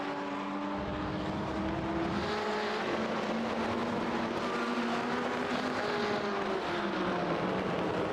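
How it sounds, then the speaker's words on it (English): NASA GT Americas race cars run at Indianapolis, their engines rising and falling in pitch as they pass at moderate distance, one after another in a continuous motorsport drone without commentary. "Just check out that beautiful race car."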